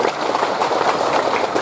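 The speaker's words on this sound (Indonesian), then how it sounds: "Saya minta tepuk tangan dulu dong buat panitianya" An audience at an evening religious lecture applauds for the event organizers, a brief steady wash of many hands clapping at moderate distance.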